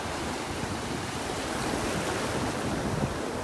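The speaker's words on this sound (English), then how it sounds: "Listen to those waves." Continuous roar of Gulf of Mexico surf washing in on a beach in North Naples, Florida, broad and steady, with wind buffeting the microphone and no voices.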